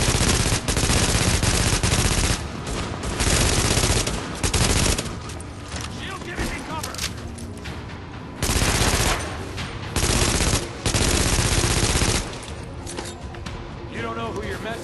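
Sustained automatic gunfire in The Division, dense loud bursts of rapid shots that stop and restart in several long volleys.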